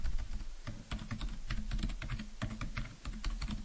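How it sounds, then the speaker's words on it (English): Rapid typing on a computer keyboard in a word processor, with uneven bursts of close, crisp key clicks and taps running continuously without pause. "I'm just doing 2 dashes and an arrow on the keyboard here in Microsoft Word."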